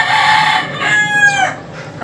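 A rooster crows close by, a loud drawn-out call that rises and then trails off, with quieter clucking at the end; a fighting stag over five months old.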